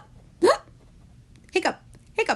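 A voice imitates hiccups three times, each a short, sharp vocal gulp with a clear pause between them, spoken alone over a quiet background.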